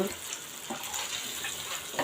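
Eggs frying in oil in a pan for an egg dopiaza, a steady close crackle and hiss running through the whole short stretch with a few brighter pops, no voices.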